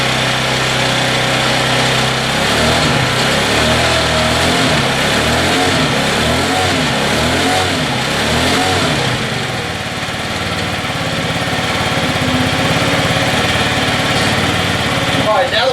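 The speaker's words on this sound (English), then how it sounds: "Don't want to rev on it too hard while it's first starting." A scooter engine starts and runs after oil change prep, idling with a loud, buzzy, steady drone and light revs that rise and fall, close up, with no talk over it.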